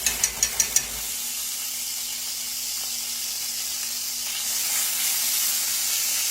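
Grease heating in a skillet gives off a steady, close hiss that swells slightly louder toward the end, after a few quick clicks at the start.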